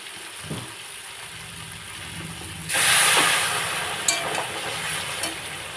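A little water goes into a pan of spiced prawns with pointed gourd, setting off a sudden loud burst of hissing steam and sizzle that lingers and slowly fades, with a couple of small metallic taps afterward, close by and without speech.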